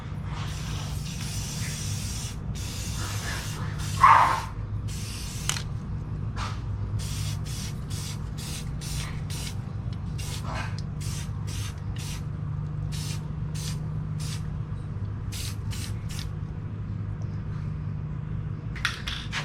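Blossom White paint spraying onto the interior of an AMT 1/25 scale model truck: a steady hiss over a low airbrush compressor hum, broken into many short bursts with one sharper click near the start.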